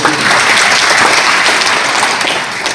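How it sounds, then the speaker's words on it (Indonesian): Dense, loud applause from a seated audience at a school training session fills the whole stretch, steady throughout and tapering slightly at the end, with no voices over it. "Tepuk tangan dulu sekali lagi."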